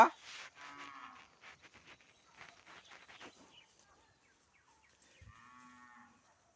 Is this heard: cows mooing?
yes